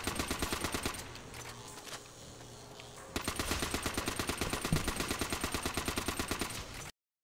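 Rapid automatic gunfire in Call of Duty: World at War rattles out in two long, evenly spaced bursts, with a brief lull between them before it cuts off sharply.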